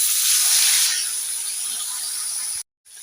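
Pieces of fish frying in hot oil in a home kitchen, a steady loud hiss and sizzle that fills the clip, easing slightly after the first second, then a brief cut to silence before the sizzle returns.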